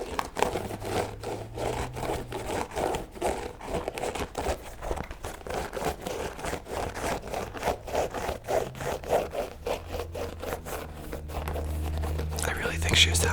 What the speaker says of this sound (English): Let's enjoy some of the scratching sounds now.